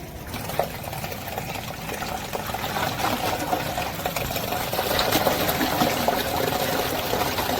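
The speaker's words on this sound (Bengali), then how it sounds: "খাবার জলটা ভরতে হবে" Drinking water runs steadily into a container, a continuous splashing gush that grows slightly louder as it fills, with no talking.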